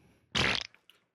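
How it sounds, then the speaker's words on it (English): A single loud, close fart sound effect lasts about a third of a second, then trails off into a couple of small sputters, with no talking. "This is where we should have fart noises from the swamp."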